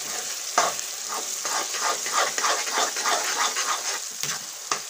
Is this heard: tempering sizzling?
yes